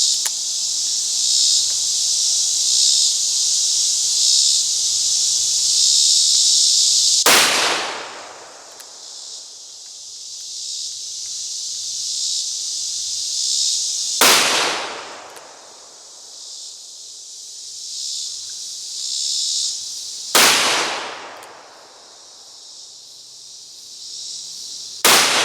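Three sharp, loud gunshots ring out several seconds apart during trick shooting at a playing card outdoors, each crack decaying into a long echo over a constant high insect buzz.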